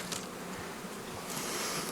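Honeybees humming steadily around a hive at a Lemko apiary in Zdynia, a dense continuous outdoor buzz with no voices.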